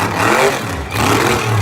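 A mega truck engine revs hard and loud during a donut at a Monsters v. Megas event in West Lebanon, with a steady roaring drone that dips briefly and then surges again.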